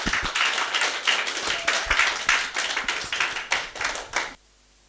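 A church congregation gives a loud round of applause at a Sunday worship service in Paris, dense overlapping claps sustained for over four seconds before stopping abruptly into near silence.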